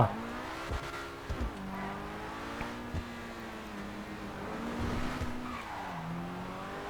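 A car in GTA drives hard, its engine whining and shifting pitch as the tires squeal and skid in repeated bursts through turns, close and continuous.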